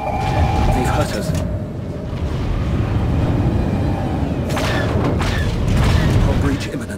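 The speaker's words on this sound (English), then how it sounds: "Brace for missile impact." In the space combat game SWTOR, a missile impact explodes near the end as a loud, broad rumbling blast with crackling debris, following a stretch of steady low ship hum.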